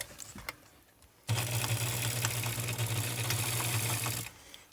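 A sewing machine stitches around a cotton face mask, a loud continuous mechanical whir starting abruptly and running steadily for about three seconds before stopping, with quiet handling noises before and after.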